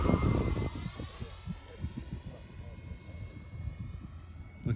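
Model X-Fly J-65 jet flying on a windy day, a steady high turbine whine with harmonic tones under heavy low wind buffeting across the whole stretch.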